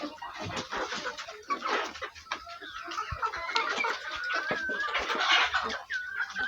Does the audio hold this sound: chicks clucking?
yes